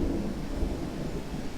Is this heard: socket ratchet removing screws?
no